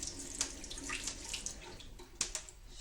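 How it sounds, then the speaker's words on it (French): Kitchen tap running water over a knife being rinsed while making sushi and maki at home, a soft continuous splashing hiss with a few brighter spatters, fairly quiet and without talk. "Je vais juste rincer mon couteau."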